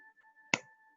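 Hand claps keeping time with a children's song during a home music-play lesson, two sharp, close claps spaced about half a second apart over a soft sustained tone.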